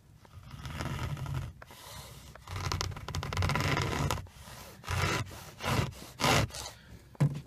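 Harsh scraping of a MyteeDry upholstery tool rubbing against a fabric car seat in uneven bursts, a rough scratchy drag repeating several times, close and fairly loud with no talking.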